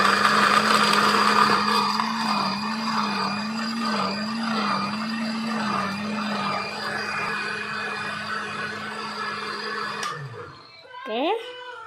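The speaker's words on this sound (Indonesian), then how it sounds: "Kita blender sampai halus." A kitchen blender hums steadily with a wavering motor pitch, grinding andaliman spice paste with water until smooth for Batak mie gomak, then winds down and stops near the end, followed by a brief squeak.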